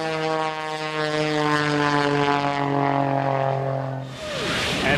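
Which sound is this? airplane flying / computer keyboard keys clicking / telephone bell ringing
airplane flying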